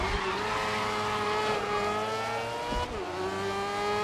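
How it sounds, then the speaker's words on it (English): A formula race car engine in the GRID video game screams at high revs with rising gear pulls, a brief dip at a shift, and steady loud whine throughout, no voices. "You can hear the beautiful sound of the formula."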